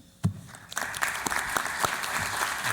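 Audience applause at a formal forum inauguration, a burst of dense clapping starting abruptly and continuing steadily, close and fairly loud throughout with sharp individual claps standing out.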